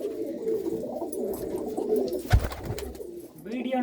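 Malwai pigeons cooing in a pigeon keeper's loft in a Punjabi village, soft repeated coos layered together at close range, with a brief louder knock midway and faint voices in the background.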